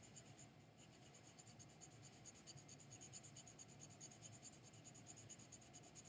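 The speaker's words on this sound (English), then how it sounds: "I'm going really heavy pencil pressure" A pencil, or charcoal, is pressed hard against paper while darkening a cast shadow on a sphere drawing, giving a close, continuous rhythmic scratching of quick back-and-forth strokes with no voices.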